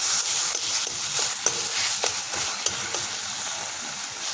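Taro greens (kochu shak) are stirred and fried in a pan, giving a dense continuous sizzle with occasional soft scrapes and taps of a spatula, close and steady, without speech.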